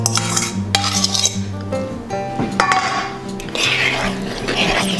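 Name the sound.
mixing wet ingredients into dry waffle batter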